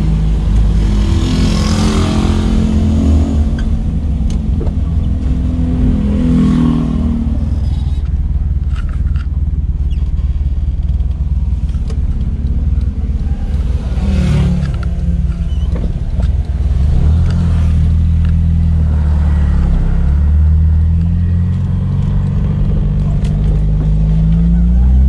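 Toyota Corolla EE90 with a 2E engine, exhaust and gasket work underway, running close by with a loud, continuous rumbling drone that rises and falls in pitch as it revs and settles, with faint talk in the background.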